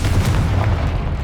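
A Confringo blasting spell explodes in the Hogwarts Legacy video game: one loud, deep booming blast with a rumbling tail that fills the short moment.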